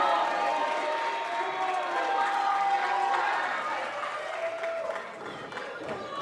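Crowd at a wrestling TV show cheering and clapping, a continuous broad roar of many voices filling the hall, with a commentator talking over it.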